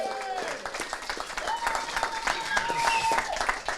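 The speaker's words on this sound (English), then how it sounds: "I'm going to need you guys to give a round of applause for our DJ over there, DJ Triple B" An outdoor crowd at a town fishing derby claps for the DJ in a burst of lively applause, with voices and cheers mixed in.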